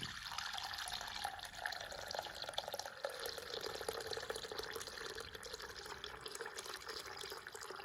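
Herbal hair oil made with karisalankanni (false daisy) being poured into a bowl, a faint, steady liquid trickle that keeps going without a break, quiet and close.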